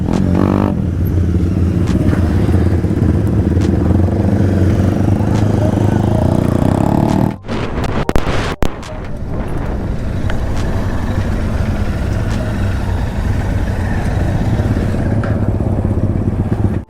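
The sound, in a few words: motorcycle riding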